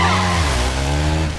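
A stolen motorcycle skids to a stop with a loud, sustained tonal squeal of rubber that holds steady and then eases off at the end of a brief burst.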